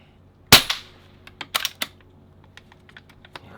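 A single sharp gunshot cracks out close during night target shooting, followed by a scatter of faint clicks and small knocks of handling.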